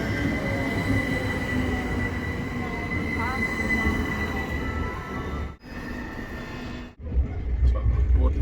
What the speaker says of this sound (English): It's a commuter line train.